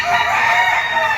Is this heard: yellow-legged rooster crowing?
yes